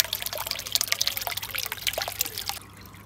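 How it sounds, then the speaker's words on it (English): Water trickles and splashes from the inlet of a raised 50-gallon garden pond, a close, bright, busy patter of drips that suddenly thins out near the end as the flow is shut off. "I'll turn this water inlet back off"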